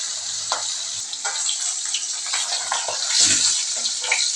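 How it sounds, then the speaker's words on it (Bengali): Bata fish fry in a pan, a close, steady sizzling hiss broken by bursts of sharper crackle and spatter. "মাছটাকে ভাজছি।"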